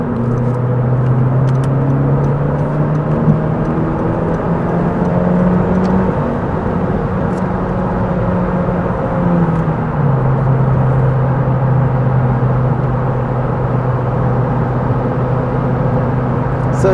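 A Honda Civic Si coupe (2017-2020) pulls onto a freeway in third gear, its engine droning steadily from inside the cabin as the pitch climbs, dips at a shift-like break, then settles into a sustained higher hum over road noise.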